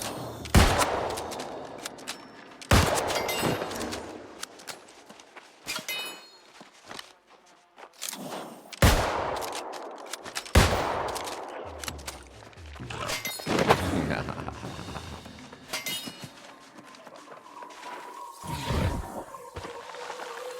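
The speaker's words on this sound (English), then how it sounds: "Let's see how our new rifle works." A rifle fired during combat in the New World video game, with several heavy shots spaced seconds apart, each a sharp loud blast with a trailing tail, mixed with footsteps and game effects.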